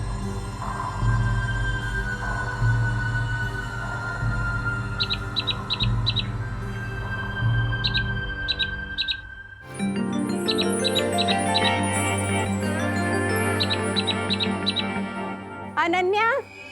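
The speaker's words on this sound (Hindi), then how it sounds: "ये तो कोई एग्जॉटिक सी बर्ड लग रही है मुझे।" An exotic bird gives bursts of quick high chirps and squawks in short clustered runs, repeated several times over a steady hum, with people talking and a swelling music bed in the latter half.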